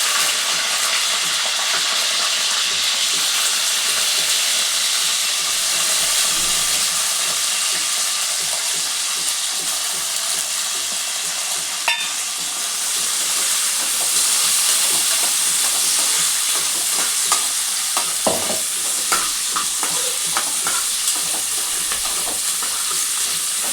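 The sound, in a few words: green chillies frying in a pan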